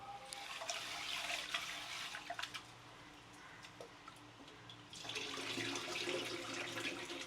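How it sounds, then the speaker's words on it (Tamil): Water pours in a steady splashing stream into a pot, about six tumblers for three tumblers of rice, close by, easing off midway and then gushing again more strongly toward the end. "ஸோ 6 டம்ளர் தண்ணி ஊற்றிக்கிறேன்."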